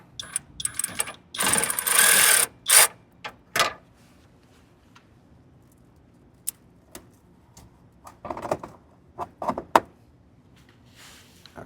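A ratchet wrench clicks in short bursts on the battery terminal of a 2011 Toyota Camry, with sharp, close metallic ratcheting and clunks separated by quiet pauses.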